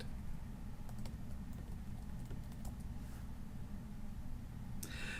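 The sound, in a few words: typing code on a computer keyboard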